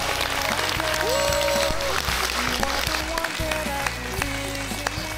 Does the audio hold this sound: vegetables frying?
no